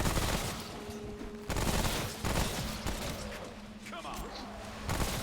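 Rapid submachine gun bursts from the third-person shooter Remnant From the Ashes, loud close-range automatic fire broken into several sustained strings with brief gaps, under scattered voice.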